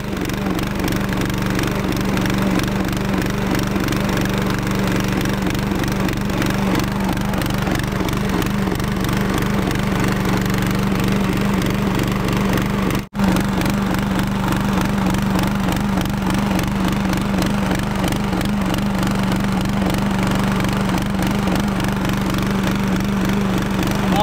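A small engine runs loud and close in a hot farm setting, a rough pulsing drone that briefly cuts out once midway before carrying on unevenly.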